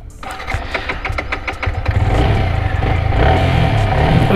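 A Yamaha R15 V3 motorcycle engine cranks with a quick series of ticking pulses, then catches and settles into a loud, close, steady idle with a slight rev.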